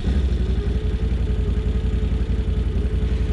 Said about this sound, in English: I do love the way the sound of this engine, man. The V-twin